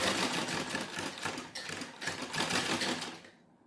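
A sewing machine stitches a lined blouse with a firm seam, a loud close rapid needle clatter that runs in steady bursts with a brief dip midway and stops abruptly near the end.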